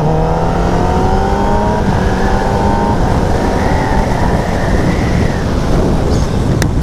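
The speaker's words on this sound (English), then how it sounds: "you can kind of hear the engine spin up a little bit" A 2019 Kawasaki ZX-10R sport motorcycle engine revs up and holds a rising, whining pitch with steady wind rush over the microphone, loud and close, with no talking.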